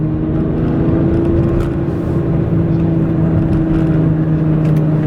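A BMW E46 M3 with its S54 engine drives past at a steady pace. The engine gives a close, constant drone with a strong, even tone and slight shifts in pitch, and no one speaks.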